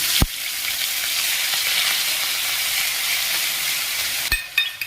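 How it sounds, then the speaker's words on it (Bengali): Loud, steady sizzling of bay leaf and dried chilli frying in hot oil, close up, with a couple of sharp clicks at the start and near the end. "তেজপাতা আর শুকনো লঙ্কাটা দিয়ে নিলাম, এগুলো একটু ভাজা ভাজা হোক।"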